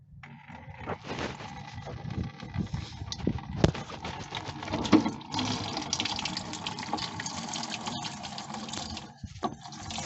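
Distilled water is poured into the cells of a six-year-old car battery, a steady close-up stream of splashing and gurgling liquid that runs for several seconds with a few louder knocks and clunks.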